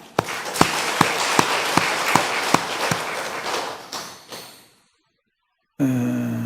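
A church congregation at a Sunday worship service bursts into thanks-giving applause, a dense wash of many hands with a few sharper near claps, lasting several seconds before fading out, followed after a pause by a voice.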